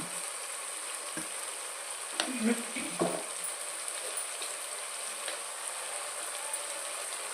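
Spices and curry leaves frying in a pan for meal maker biryani: a steady, faint sizzle runs throughout, with a few brief clinks and stirring scrapes near the middle, and no one talking.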